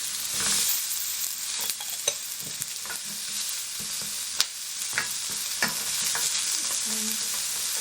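Chopped onion sizzles steadily in hot olive oil in a pan, a continuous broadband frying hiss punctuated by sharp scraping clicks as it is stirred, no voices.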